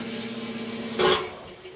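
Sump pump in a basement pit switching on as a bucket of water is poured in, a low steady motor hum with a short louder surge of water and mechanical noise in the middle.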